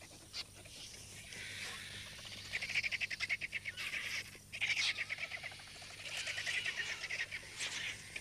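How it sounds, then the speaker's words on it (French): Medium-sized Rüppell's and white-backed vultures gathering at a carcass, giving faint, rapid, raspy panting chatter and squabbling calls in bursts over a quiet ambient background. "Ceux-ci sont des vautours de taille moyenne, des vautours de Ruppel ou des vautours à dos blanc."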